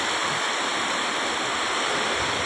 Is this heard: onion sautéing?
no